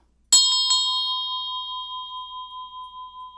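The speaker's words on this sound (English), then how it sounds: "I like this bell." A single bell is struck sharply, then rings out in a clear, sustained tone that slowly fades with a gentle wavering pulse.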